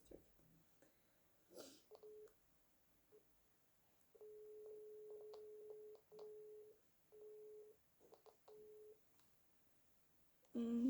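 Repeated electronic telephone tones sound while a call is placed from one phone to another, steady beeps in short bursts and a longer run of evenly spaced tones, fairly faint and clear with no talk over them.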